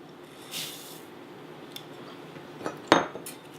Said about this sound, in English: I'm going to stir this up and let this simmer gently for another 20 minutes